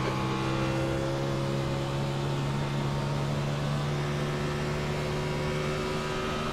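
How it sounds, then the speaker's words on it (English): Simulated NASCAR stock car engine in the iRacing game at Atlanta, a steady droning hum with sustained harmonic tones held throughout at an even, fairly loud level, no talk over it. "Can you hear the engine okay?"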